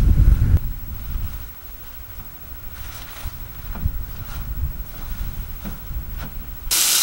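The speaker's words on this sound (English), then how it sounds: "it's quite windy here" Gusty wind buffeting the microphone outdoors at a high-altitude campsite in the Atacama, a low rumbling roar with rising and falling surges and a sharp hissing gust at the end.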